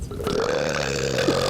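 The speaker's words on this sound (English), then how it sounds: "His burps are gross." A young man's loud, drawn-out burp rumbles close up for well over a second, with no talk over it, as part of a library burping prank.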